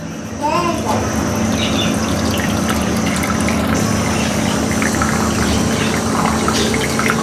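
Boiled nannari root water pours and trickles steadily through a strainer, a continuous close splashing wash with a faint voice in the background.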